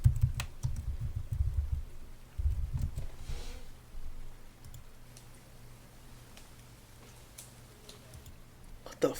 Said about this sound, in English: I hit my keyboard.